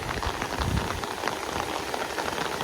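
Heavy rain falls on a Thai garden near stone and concrete steps, a dense, steady patter of drops with soft low thuds, fairly quiet and even, with no voices.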